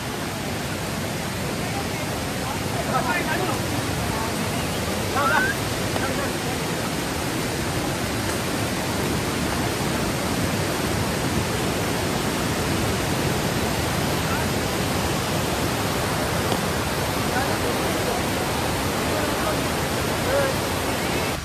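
Waterfall at Devkund, with milky white water pouring from above, as a dense, continuous roar filling the whole stretch at steady loudness.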